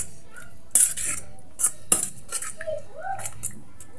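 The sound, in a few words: stirring corned beef mixture with utensil in bowl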